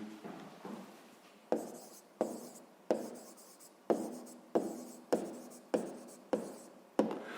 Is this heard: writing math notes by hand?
yes